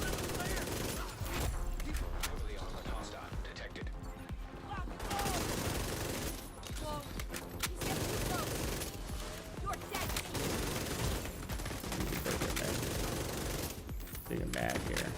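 Rapid automatic gunfire from The Division 2 video game rattles in long sustained bursts with brief pauses between them, loud and dense throughout, and occasional talk underneath.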